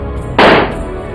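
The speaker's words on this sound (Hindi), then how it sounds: "जहां ये ताबड़तोड़ फायरिंग हो रही है" A single loud gunshot in a street shooting in Jodhpur, a sharp close crack with a brief decaying tail over steady background noise.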